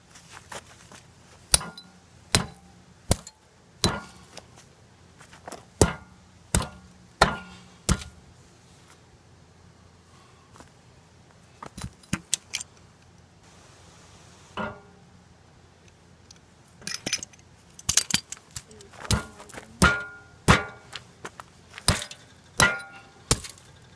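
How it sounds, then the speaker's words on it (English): An axe head pounds and tamps the ground at a campsite to level a campfire stove, giving a series of sharp, separate thuds in irregular bursts with pauses between them. "some type of an axe or something so we can pound the ground, tamp it down"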